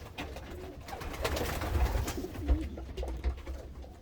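Pigeons in a breeding loft coo softly and repeatedly, low rolling calls close by over a continuous rustling, muffled background.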